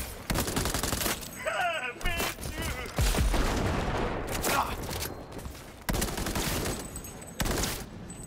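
Gunfire in the video game Cyberpunk 2077, loud rapid bursts of shots and sharp cracks in quick succession amid game effects, with a voice talking over part of it.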